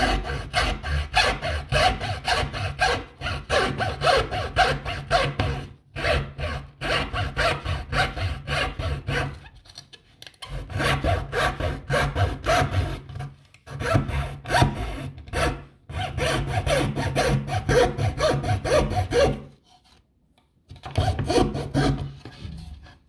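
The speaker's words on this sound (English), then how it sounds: "Now I will try to cut the same, but with my saw." A hand saw cuts through wood in rapid back-and-forth strokes, forming a close, rasping rhythmic chatter. Runs of strokes break off for short pauses several times.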